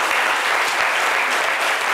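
Children clap together in a dense, steady burst of applause that carries evenly from start to end, close and lively, at a gathering celebrating newly funded school toilets.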